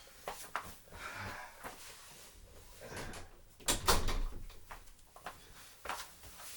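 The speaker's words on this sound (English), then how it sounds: "I'm gonna close the door here." A door in a home is pushed shut with one solid, close thump partway through, framed by faint shuffling and handling noises before and after.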